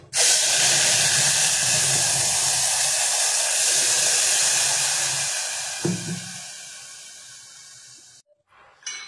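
Ground masala paste for a Malvani bangda fish curry is poured into hot tempering and sizzles loudly, a broad steady hiss that eases off before stopping abruptly near the end.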